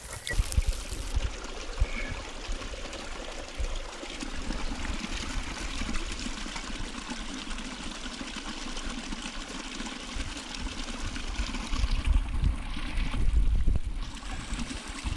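A river in Nepal's far west, flowing steadily and loudly close by, with constant rushing and trickling water throughout while water is fetched.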